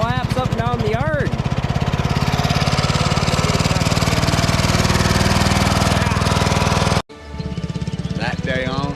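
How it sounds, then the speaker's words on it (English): A John Deere 111 lawn tractor, fitted with a swapped engine, runs steadily and loud while pulling a lawn sweeper around a yard, its drone continuous for about seven seconds before cutting abruptly to a quieter idle-like hum. "I'm gonna hook her up to the lawn sweeper and we're gonna take her for a couple laps up and down the yard"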